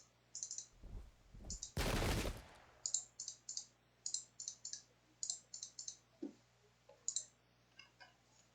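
Musket volley in the strategy game Pike and Shot, the Battle of Ramillies of 1706: one loud, broad blast of fire, followed by a long run of quiet, evenly spaced crisp clicks, with no voices.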